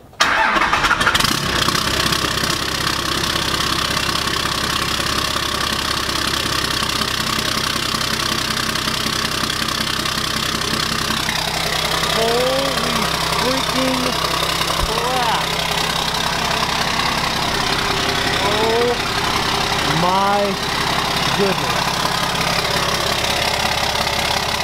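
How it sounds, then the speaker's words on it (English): A 12-valve Cummins diesel with a 5-inch straight-pipe exhaust cranks and fires up, then settles into a loud, rough, steady idle that fills the whole stretch, with occasional voices under it. "Let's see this thing fire up,"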